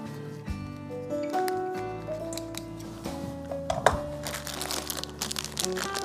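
A plastic Ziploc bag being filled with stuffed-pepper filling crinkles in short, rustling bursts close by, over steady background music.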